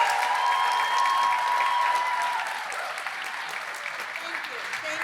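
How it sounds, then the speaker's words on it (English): Graduation ceremony audience applauds in a broad, sustained round that eases slightly toward the end, filling the hall with steady clapping. "And would you please all give another round of applause to Amani and AMQ for amazing."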